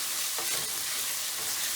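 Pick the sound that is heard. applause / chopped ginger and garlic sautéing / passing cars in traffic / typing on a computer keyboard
chopped ginger and garlic sautéing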